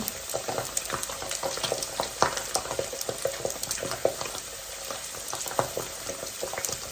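Sweet fish fries in hot oil in a home kitchen, giving a dense, continuous crackle and sizzle with scattered sharp pops throughout and no talking.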